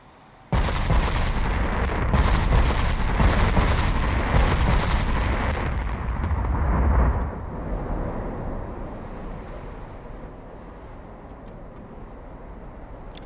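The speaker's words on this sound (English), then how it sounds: "See those 18s fire again." 18-inch battleship main guns firing in the naval game Ultimate Admiral Dreadnoughts, a heavy roaring salvo with rapid overlapping booms that sustains several seconds, then a long rumbling decay.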